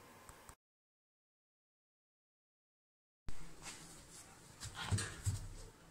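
A dog at a shelter, heard up close with soft whimpers, snuffling and movement after a stretch of silence, with brief handling noises.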